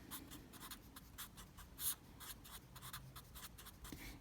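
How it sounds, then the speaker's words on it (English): Pen or pencil writing on paper during a maths lesson on line gradients, a steady run of scratchy strokes in quick bursts, close and fairly quiet, with no talking over it. "I'm going to write my rule"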